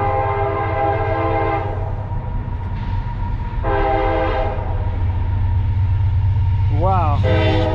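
A train rumbles past steadily close by a roadside near SR-50 and Burwell Road, its horn blaring in long harmonic blasts, with a rising wavering horn note near the end.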